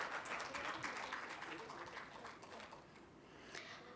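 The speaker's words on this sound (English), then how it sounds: "Can we have a round of applause," Round of applause from a school leadership summit audience in Assam, broad dense clapping that is loudest at the start and thins slightly over four seconds, with possible faint voices in the hall.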